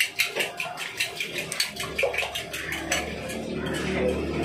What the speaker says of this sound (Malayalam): ഇനി ഇതിലേക്ക് നമ്മൾ കുറച്ച് പാല്, കാച്ചിയ പാലാണിത്, അധികം ചൂടില്ല, നമ്മളിതിലേക്ക് ഒഴിച്ചു കൊടുക്കുക. ഒന്നും കൂടി ഒന്ന് അടിച്ചു കൊടുക്കുക.